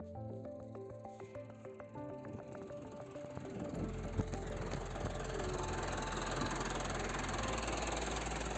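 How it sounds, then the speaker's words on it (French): A tractor engine idles in the countryside, starting as a faint low rumble and then swelling into a steady, loud, throbbing drone that holds to the end. "Je trouve magnifique votre tracteur."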